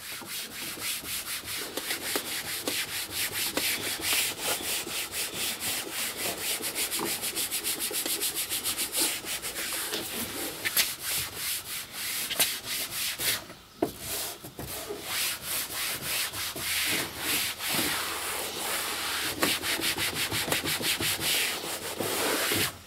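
Steady rubbing of a rag with cleaner on a Mini Cooper headlight, a dense continuous scrubbing sound with close, even strokes throughout and a brief pause midway, no talking.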